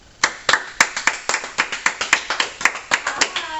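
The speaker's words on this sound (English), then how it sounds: "Why don't we give her a round of applause?" A studio audience gives a round of applause, though only a few distinct, close hand claps sound in a loose rhythm of about five per second rather than a full crowd.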